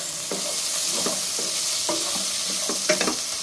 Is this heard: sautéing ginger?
yes